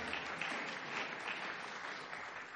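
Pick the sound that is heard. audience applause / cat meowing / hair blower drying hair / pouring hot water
audience applause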